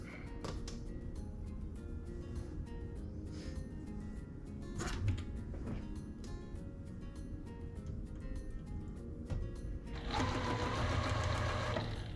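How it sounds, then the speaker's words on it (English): Sewing machine stitching pre-cut quilt fabric pieces together for a kitchen table quilt block, a close rapid mechanical whirr with clicks, stopping briefly then running louder and faster near the end, no talk. "So we'll just sew these pieces together and those pieces together."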